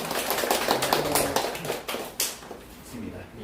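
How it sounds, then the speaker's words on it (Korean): An audience applauds to welcome a guest at a Korean Disability Day talk-show event. The dense clapping is close and steady, then thins out and fades toward the end. "박수로 환영해 주시기 바랍니다"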